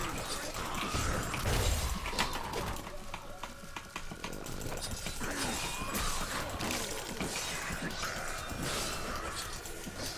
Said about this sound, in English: Cluster arrow hits really hard.